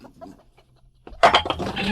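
Chickens cluck and squawk loudly in a sudden burst after a quiet stretch, with a few faint sounds and murmurs before the flurry of close, agitated fowl calls.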